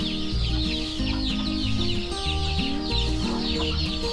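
A flock of farm chickens in their coop after a storm clucks continuously, with many overlapping near and far calls forming a dense, busy chorus and no voices.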